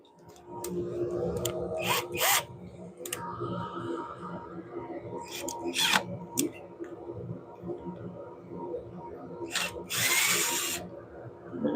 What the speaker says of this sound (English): And get our drill here.